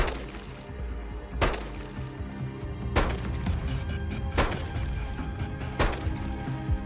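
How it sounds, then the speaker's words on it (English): Four sharp handgun shots at a target ring out about every second and a half, loud and close, from a pistol fitted with a red dot sight, with a dense echoing background between them. "So I'm going to shoot the head here"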